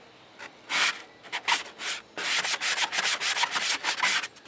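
Sanding the steel bed of a 1987 El Camino by hand before a roll-on Herculiner coat: close, rasping back-and-forth scrubbing strokes, first in separate bursts, then a quicker run of rhythmic passes into the corners.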